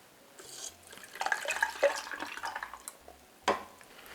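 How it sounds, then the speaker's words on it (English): Evaporated milk poured from a can into a pot of spiced coffee mixture with ginger, cinnamon, cloves and anise seed, giving a soft, close liquid splashing and trickling for a few seconds with a brief final plop, no talking. "And we're gonna add a can of evaporated milk."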